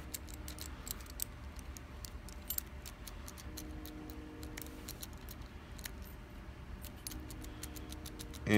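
A key is tried in a Command padlock, making faint, close metallic clicks and small jangles scattered through a quiet room, with no talking.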